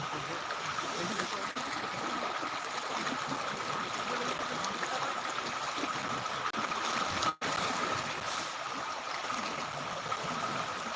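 Rain floodwater flowing: a steady, dense rushing and trickling of water, continuous and fairly loud throughout with one brief dropout.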